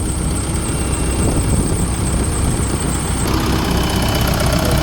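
A Doosan 7-ton diesel forklift engine idles steadily up close, a continuous loud rumble with mechanical knocking and a high whine that drops away partway through.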